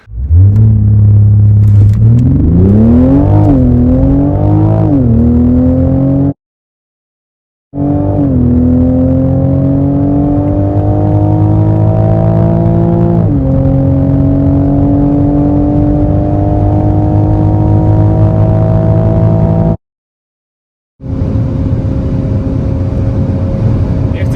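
Toyota Supra engine revving up through several rising pulls, loud and close, with deep droning harmonics climbing and settling, broken by two brief silent gaps.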